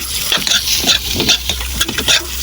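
Red pepper stir-frying for pancit bihon, a close, lively sizzle with quick repeated scrapes and tosses of a utensil in the pan, loud and continuous with no talking.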